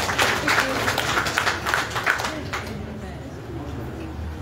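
Audience applause for award winners at a ceremony supporting women's entrepreneurship, a dense patter of clapping under ongoing murmur that thins out toward the end.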